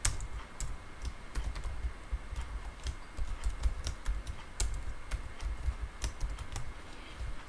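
Fast typing on a computer keyboard while entering data into a spreadsheet, a close, steady patter of key clicks with occasional louder strokes, no talk.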